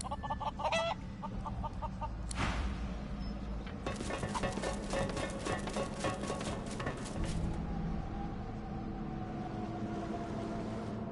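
A hen in the Divinity: Original Sin 2 video game clucks and squawks in short bursts over a game backdrop with music, a brighter flurry of clucking rising midway before fading.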